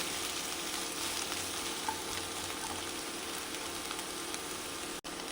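Capsicum, tomato and onion are stir fried in a pan, giving a constant, even sizzle close by that barely changes over a few seconds, with no voices.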